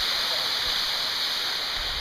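A waterfall pours steadily in a loud, continuous broadband rush of water, close and unbroken with no voices.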